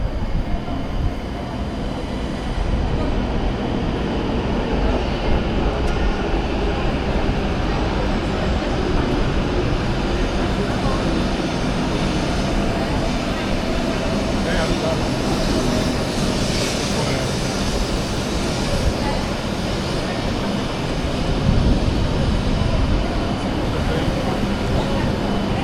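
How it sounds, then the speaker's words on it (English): A train pulls into Itogawa station in Japan, a loud, steady rumble of wheels and rail noise filling the whole stretch, swelling slightly near the end. "And here comes my train."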